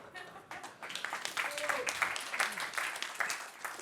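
A tech-conference audience applauding, a soft scatter of claps sustained for a few seconds at moderate distance, with speech mixed in.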